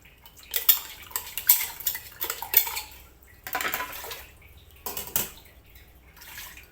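Hands washing pothos plant roots in a container of water, with intermittent splashing and sloshing bursts against the container, close and fairly loud with quiet gaps between.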